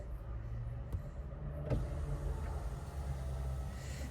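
Front passenger power window on an Opel Insignia lowering in one express motion, a faint motor whir over a steady low cabin hum, with a small click near the start of travel.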